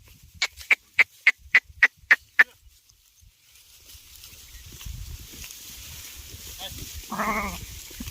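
Seven sharp, evenly spaced taps open the clip, then quiet shuffling, and a single wavering sheep bleat sounds near the end.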